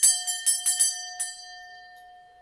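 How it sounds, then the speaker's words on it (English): A small ritual bell used in a full moon solitary magick practice is struck several times in quick succession. Its clear bright tone then rings on and fades slowly in the quiet. "ring my bell"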